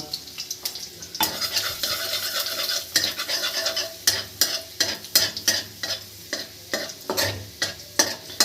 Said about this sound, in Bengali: কড়া তেল দিয়ে দিচ্ছি। এবার কী করতে হবে, এই যে রসুন কাটা আছে, আগে অল্প কয়েকটা রসুন দিয়ে দিতে।